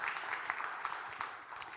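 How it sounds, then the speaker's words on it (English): An audience at an investment conference panel gives a brief round of applause as a panellist is welcomed; the clapping is soft and distant, a continuous patter with a few sharper claps standing out. "Please, a round of applause to Nick."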